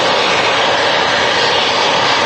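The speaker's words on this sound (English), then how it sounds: "TAP Air Portugal, Embraer E190 coming in from Lisbon" A TAP Air Portugal Embraer E190 jet airliner arrives at Manchester Airport with a loud, steady, broadband engine roar close by, alone with no voices.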